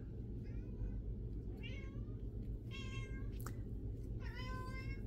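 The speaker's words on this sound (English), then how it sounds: "Can you guys hear my cat meowing?" Cat meowing indoors, four short, faint meows spaced out over a steady low background hum.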